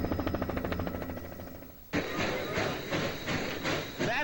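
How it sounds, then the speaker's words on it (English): L&N 152, an old steam locomotive, labors uphill with rhythmic chuffing, hissing steam and clanking rail noise, close and loud, breaking off briefly before resuming stronger. "It's the sound of an old steam engine going uphill."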